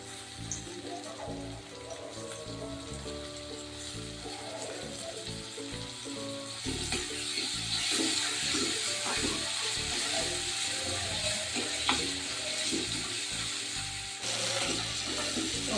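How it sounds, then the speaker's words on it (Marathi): Finely chopped medium tomatoes sauté in a pan with a soft, hissing sizzle that swells louder midway, mixed with clinks and stirring, while a voice talks at times. "टोमॅटो छान परतून घेतलेला आहे"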